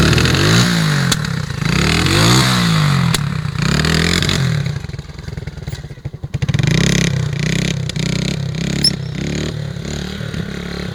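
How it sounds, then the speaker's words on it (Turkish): A motorcycle is revved hard over and over during a youth stunt-riding session in Bolu, Turkey, its engine roaring close and loud and rising and falling in waves, with sharp exhaust pops and crackles standing out as the throttle is blipped. "Egzoz patlatmayı."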